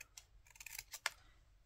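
Scissors snip through paper during a mixed media craft project, a few quick close cuts in an uneven rhythm with a sharper final snip, faint and alone.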